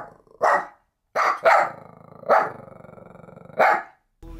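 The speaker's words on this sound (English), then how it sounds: "Just take a look at this little cute dog." A small dog barks in several sharp, close bursts, with a low rumbling growl running between the barks.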